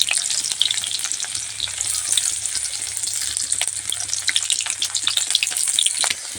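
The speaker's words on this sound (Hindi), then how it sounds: "तेल गर्म हो गया है, तो इसमें हम डाल देते हैं प्याज और हरा मिर्चाई।" Onion and green chilli frying in hot oil, a loud continuous close sizzle with crackling pops throughout and no voices.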